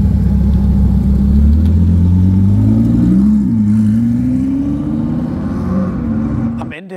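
A tuned, roughly 1000 hp car at an SCC500 track event in Zweibrücken revs hard at full throttle. The loud, close engine drone climbs steadily in pitch, then eases off near the end.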